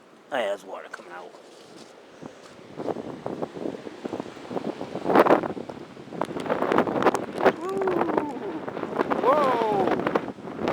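Strong gusty wind buffets the microphone outdoors on a saturated lawn, a loud rumbling roar that surges and fades, with excited voices calling out over it.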